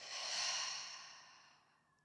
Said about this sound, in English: And exhale, breathe it out.